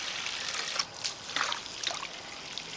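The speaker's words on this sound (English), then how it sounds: "I just put some water in here to help find them, and swish it around" Water swished around in a container of garden flower bulbs, a soft close trickling and sloshing with a few brief splashy surges, no talking.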